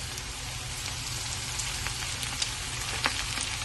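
Carrots and beans frying in a pan for veg fried rice: a soft, steady crackling sizzle with occasional tiny pops, close and even throughout.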